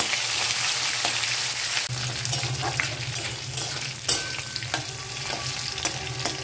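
Prawns fried earlier and returned to the pan sizzle loudly while being stirred, a steady frying hiss broken by regular scrapes and light knocks of the spatula on metal.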